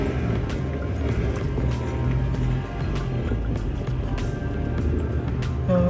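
A car engine labors steadily in first gear up a steep zigzag road toward Lake Tabeo in Kabayan, Benguet, a continuous low rumble with road and wind noise throughout.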